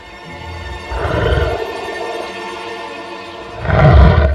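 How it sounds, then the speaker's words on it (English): A stop-motion cartoon lion growls and roars in two loud, close bursts separated by a quieter rumbling stretch, with no talking. ""Mind your language," growled the lion."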